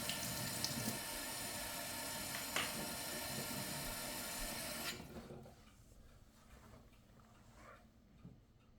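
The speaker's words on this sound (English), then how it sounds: "Then we take our spoon, and we get a little bit of water." Kitchen tap running steadily into a sink while a spoon collects a little water, a loud close rush for about five seconds that then cuts off, leaving faint clinks and room noise.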